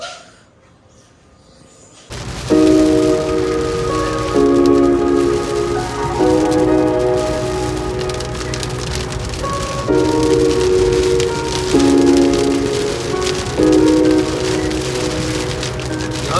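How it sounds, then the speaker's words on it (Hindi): Heavy rain pours steadily onto a road with passing motorcycles, a dense hiss that begins after a brief quiet moment and continues without pause. "यहाँ रोड पे बहुत ज़्यादा बारिश है।"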